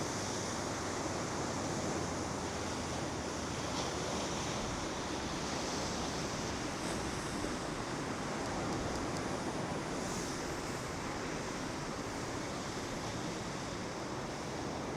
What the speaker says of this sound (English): The ocean looking really pretty.